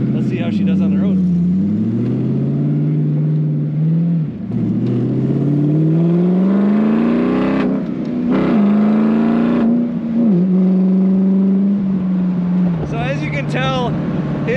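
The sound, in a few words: 1965 Shelby Cobra replica accelerating, side pipes exhaust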